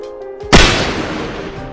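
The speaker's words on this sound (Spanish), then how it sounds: "Un disparo hizo que el caminante cayera al piso." A single hunting-rifle gunshot in a zombie-apocalypse audio drama cracks sharply and loudly over a quiet tonal music bed, then rolls off in a long fading echo.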